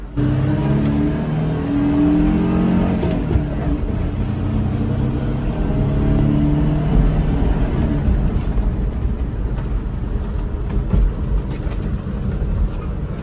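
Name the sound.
Suzuki Jimny J2 turbo accelerating and shifting through gears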